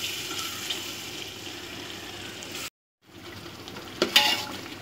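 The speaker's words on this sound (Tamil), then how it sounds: "தயிரையும் போட்டு நல்லா கிளறி விடுங்க." Yogurt being stirred into chicken biryani masala in a cooking pot, a steady wet scraping and sizzling texture that cuts out briefly, then resumes with a few sharper clinks near the end.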